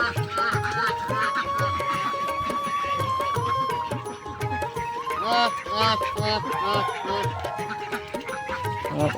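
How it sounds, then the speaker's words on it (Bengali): A crowd of ducks on a farm quacks and honks continuously and loudly nearby, overlapping calls in a dense, busy chorus. "এই যে হাঁসগুলো।"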